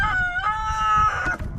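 A Barnevelder hen or other backyard chicken gives a short run of loud, close harmonic calls, two crowing-like phrases over low background rumble, without talk.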